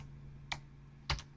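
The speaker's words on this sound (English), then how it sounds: "I'm typing the password that you see right there." A password is typed on a computer keyboard, two distinct key clicks about half a second apart over a low steady hum, quiet and close.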